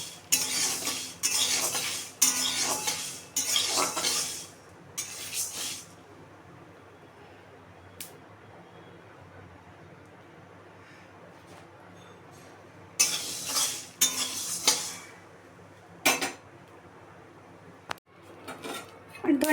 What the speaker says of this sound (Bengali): ধনিয়াগুলো একটু ভাজা ভাজা মতো হয়ে গেছে।